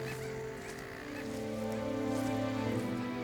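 Bridled terns calling at an osprey's twig nest on a telecom tower in hot Arabian surroundings, giving harsh honking calls with sustained tonal notes, fairly close and overlapping, with no talking.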